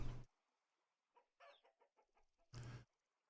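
Short bursts of chicken clucking in the video game Vintage Story come in a quick irregular series, bracketed by two louder clipped blasts of sound at the start and end.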